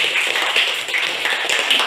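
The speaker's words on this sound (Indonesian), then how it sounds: "Kita tepuk tangan." Schoolchildren in a classroom clap their hands together, a brief, fairly loud burst of rapid overlapping claps with slight surges in rhythm, no talking.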